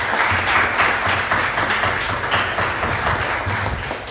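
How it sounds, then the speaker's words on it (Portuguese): A church congregation applauds steadily throughout a farewell service for departing pastors, with dense, continuous clapping and little talk over it. "Irmão, vamos aplaudir a família, vamos aplaudir a família."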